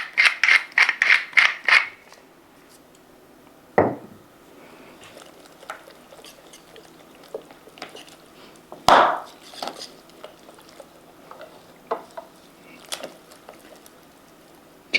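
Pepper grinder cranked over a pan of pasta carbonara, giving a quick run of about eight close, rhythmic gritty crunches, then a few scattered softer kitchen knocks and scrapes.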